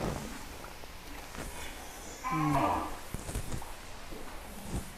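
A Madura cow lows once at a large sacrificial cattle farm in Jakarta, a short moo rising over a busy background of shuffling and faint barn noise.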